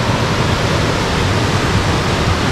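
Ciucaș Falls in Romania cascading steadily, a dense, continuous roar of falling water heard up close and loud throughout, with no voices over it.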